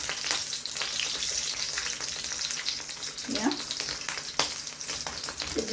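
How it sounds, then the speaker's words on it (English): Sausages sizzle steadily in a frying pan with a bright, crackling fry throughout, punctuated by a few knocks and scrapes as they are turned over. "So now I'll go ahead and turn my sausages."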